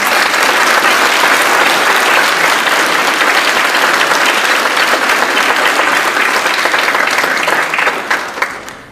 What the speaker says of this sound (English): can we please have a round of applause for the new inductees?